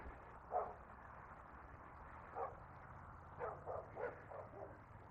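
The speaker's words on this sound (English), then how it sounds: "Dogs really hate it when you walk by their back fence." Dogs bark from behind a back fence along a walking path in Regina. Several faint, distant yips and barks come in scattered bursts over low outdoor background noise, with no talking.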